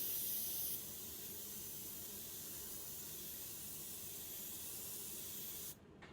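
A Supernova Studio Ninja airbrush spraying air, a close steady hiss that runs unbroken for about six seconds, slightly louder at the start and then dropping off sharply at the end.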